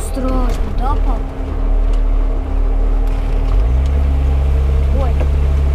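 Mercedes G-Class SUV fording water without a snorkel, its engine revving and droning loudly and continuously, the pitch rising and settling deeper partway through, with splashing water and people talking over it inside the vehicle.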